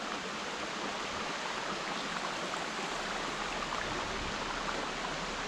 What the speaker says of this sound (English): The tallest waterfall in Sri Lanka. It's called Bambarakanda waterfall.